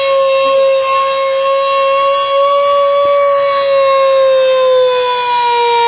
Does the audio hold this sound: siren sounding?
yes